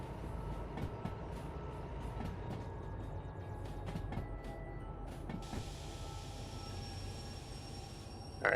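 A train rolls along steadily in the Derail Valley railway game, a continuous low rumble with faint metallic squeaks and brief clicks, with a sharper tone entering near the end.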